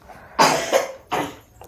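A person with a cold coughs close by, three harsh, throaty bursts in quick succession with short pauses between them, heard alone against a quiet background.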